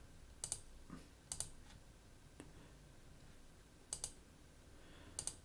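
Computer mouse clicks made while working in SQL Server: four quiet, crisp double-clicks spaced irregularly over a hushed room background, with no talking.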